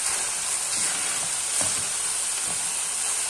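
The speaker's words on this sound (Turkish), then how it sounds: "kıymamız da kavruldu." Ground beef and onions fry in a pan for a Turkish minced-meat potato dish, a steady close sizzle with a few soft scraping stirs and no voices.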